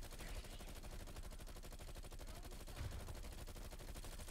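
Rapid automatic gunfire in a Call of Duty zombies match rattles out in fast, dense bursts that keep going almost without a gap, loud and close, with a heavier thump near the end.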